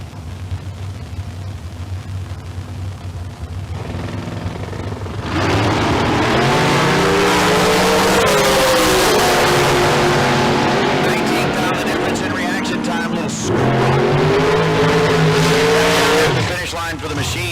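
Dragsters launching down the strip at a Tucson Dragway bracket race, a loud sustained engine roar rising after a few seconds and holding at full volume, with a commentator talking over it throughout.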